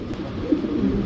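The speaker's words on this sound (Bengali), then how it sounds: "মাশাল্লাহ হোয়াইট রেসারের একটা মাদি কবুতর" A white racer pigeon hen with pomegranate-coloured eyes gives a brief, close, low cooing murmur over a steady background hum.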